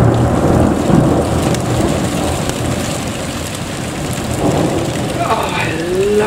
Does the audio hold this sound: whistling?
no